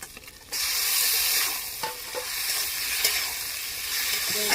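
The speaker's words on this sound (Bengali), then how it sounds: "এবার দিয়ে দেবো জল ঝরানো কচুর ডাঁটা, দিয়ে দেবো" Drained taro stems drop into spices frying in oil in a home kitchen, setting off a loud, steady sizzle with intermittent stirring scrapes, close to the microphone and without speech.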